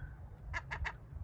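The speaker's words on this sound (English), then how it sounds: "So there's our squawky seagull." A seagull near a boat under renovation gives three quick, evenly spaced squawks over a low steady rumble.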